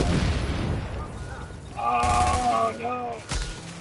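Gunfire aimed at the player in a shooter video game, loud bursts of shots close by, mixed with someone talking partway through and a sharp crack near the end.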